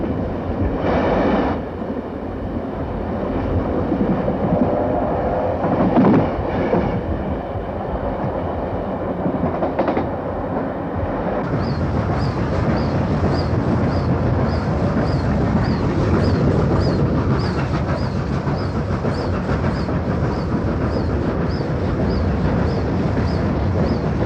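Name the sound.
steam locomotive 3801 train running on rails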